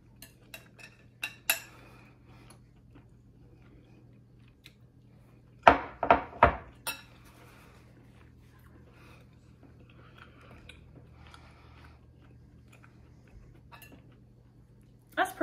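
Cutlery clinks and scrapes against a plate while someone eats bangers and mash with onion gravy, with scattered light taps, a quick cluster of sharper clatters in the middle, and faint chewing in a quiet room.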